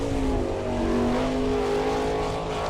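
A sprint car engine screams steadily at high revs on a qualifying lap at Attica, Ohio, a loud sustained whine with a slight pitch shift, no voices over it.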